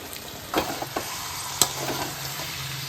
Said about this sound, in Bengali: 2 চামচ ঘি দিয়ে দিলাম